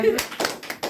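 A few separate hand claps from a small group in a classroom-style session, spaced irregularly over about a second, fairly close, with some voice mixed in.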